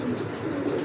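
Pigeons cooing steadily in a continuous, soft, low murmur close by: old-pattern Giribaz pigeons, a male and a female, likely from a fancier's loft collection.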